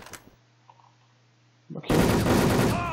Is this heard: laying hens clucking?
no